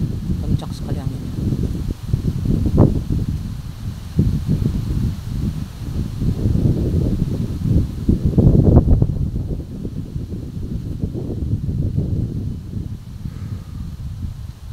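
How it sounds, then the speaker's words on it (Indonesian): Strong wind gusts through a valley on the edge of a village, making a constant low rumbling buffet against the microphone while a person talks over it. "Kencang sekali anginnya."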